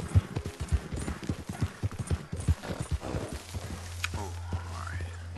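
Horse hooves clip-clop at a steady walking pace in a video game set in chilly weather, with a horse that sounds tired, followed by a low droning hum as the steps fade.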